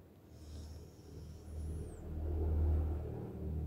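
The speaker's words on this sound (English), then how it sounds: "just like that sound of the vehicle passing by that you just heard" A road vehicle passes by outside, heard as a low rumbling swell that rises to a peak and slowly fades, distant and steady with no talking.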